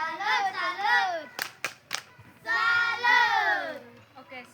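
Schoolchildren in a classroom chant the tepuk salut clapping routine, their voices calling in unison around a few sharp, distinct hand claps.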